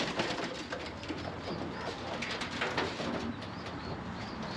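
Pigeons cooing steadily in a dovecote amid a dense, constant wash of background noise, the soft coos repeating throughout.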